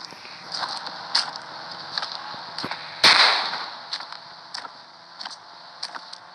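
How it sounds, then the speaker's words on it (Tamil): Rocket launcher firing in a video game, a single sharp loud blast in the middle, surrounded by scattered quieter snapping gunfire cracks against steady background game noise. "அடுத்து நெக்ஸ்ட்டு ராக்கெட் லான்ச்சர்"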